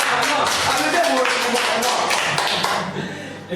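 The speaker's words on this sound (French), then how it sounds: "On va applaudir, mesdames et messieurs." A studio audience on a radio show claps in a loud, dense burst of hands that holds steady and then tapers off, with voices talking underneath.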